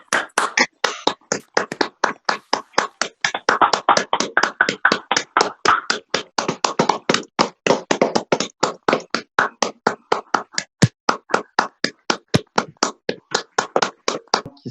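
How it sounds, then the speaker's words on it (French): Clapping in honour of healthcare workers rings out as a long run of sharp, evenly spaced claps, a few per second, fairly close and with no talk over it. "Ça commence à applaudir derrière moi, je vous invite à chacun à faire de même chez vous, d'aller applaudir avec les personnes qui saluent les soignants."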